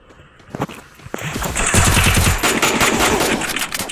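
Loud bursts of rapid automatic gunfire in the Free Fire battle royale game, a few single shots first and then a sustained rattling volley up close.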